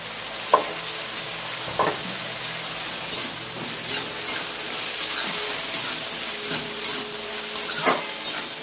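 Eggplant, radish and flat beans sizzle in a wok with five-spice seeds, salt and turmeric, a steady close frying hiss broken by regular clinks and scrapes of a stirring spatula.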